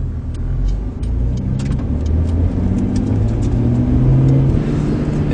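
Interior cabin sound of a car fitted with an HKS Super Turbo Muffler while driving, a loud steady low engine and exhaust drone with road rumble and faint ticks, no talking.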